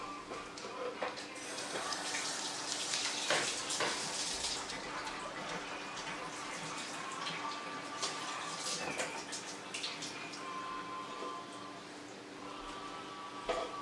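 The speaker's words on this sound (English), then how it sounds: "I'm going to wash my hands." Hands being washed under a running kitchen tap, with a steady stream of water splashing into a sink and shifting slightly as the hands move through it, close by and with no talk.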